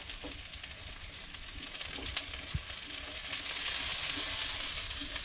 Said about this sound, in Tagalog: Igigisa na natin. Mainit na yung ating mantika. bawang talaga ang inuna ko.